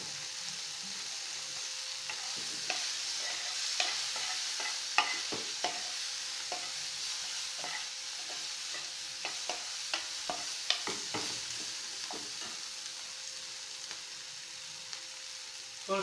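Turmeric powder sautéing in a pan for aloo paneer, a steady soft sizzle with frequent light scraping and stirring clicks from a utensil, heard alone at moderate distance.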